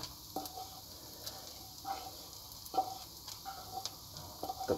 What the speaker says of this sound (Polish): Boczek, jak widzicie i słyszycie, ładnie tutaj skwierczy.